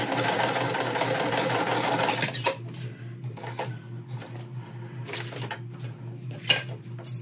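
A domestic sewing machine chain-pieces two quilt fabric pieces at once, running in a loud, steady whir for about two seconds before stopping, followed by quieter clicks and handling sounds.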